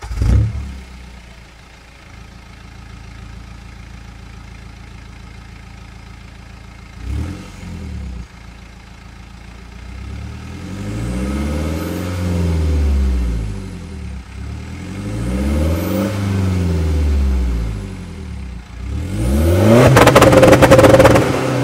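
A BMW M3 with a stage 2 tune starts with a short crank, settles into a quiet idle, then gives several rising and falling revs that grow louder toward the end.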